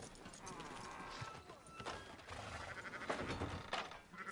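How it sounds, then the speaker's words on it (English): Sheep bleating in the Red Dead Redemption 2 video game, several rough calls over a busy background of hooves and ambient game noise, fairly faint overall. "Fine sheep."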